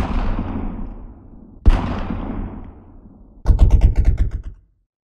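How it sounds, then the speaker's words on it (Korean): Loud gunfire: two heavy echoing shots ring out and decay, followed by a rapid burst of automatic fire that stops abruptly. "콩 볶는 듯한 총소리를 꿈속이냐 감지했다"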